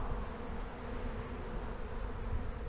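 A honeybee swarm that has settled into a hive box hums in a dense, steady drone of buzzing and fanning wings, close and continuous with no voices.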